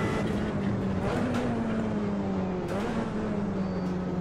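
Puma race car engine in the Automobilista racing game, a steady droning tone that rises and shifts slightly in pitch from onboard, continuous and fairly loud throughout, with no talk.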